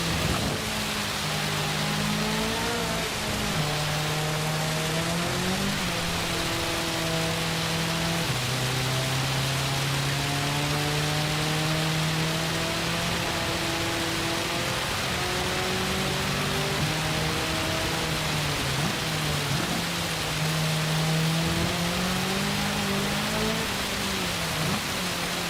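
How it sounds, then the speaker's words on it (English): A Ferrari race car in Gran Turismo 7 drives through rain, its engine droning steadily and rising and falling in pitch with gear changes, under constant loud hissing spray from the wet track. "I don't feel like this Ferrari is that good in the rain either."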